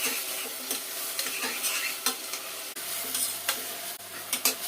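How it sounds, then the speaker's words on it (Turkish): Onions, peppers and garlic sautéing in oil, a close sizzle broken by repeated scraping and clacking of a spoon stirring the pan, with no speech. "Önce soğanlar, biberler, sarımsaklar güzel bir kavrulacak."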